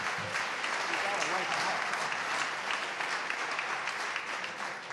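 An audience in a legislative chamber applauds during a State of the Commonwealth speech, loud sustained clapping filling the room from start to finish with murmuring voices.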